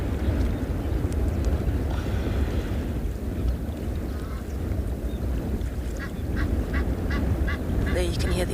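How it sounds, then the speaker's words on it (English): Egyptian geese honk from a distance across water on a South African morning safari, their calls sounding toward the end over a steady outdoor background hum. "There you can hear the Egyptian goose in the background."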